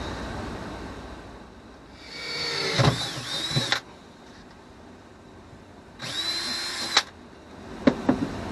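Two separate bursts of a power drill whining and grinding through fiberglass, each a second or two long, with quiet pauses and a few clicks between.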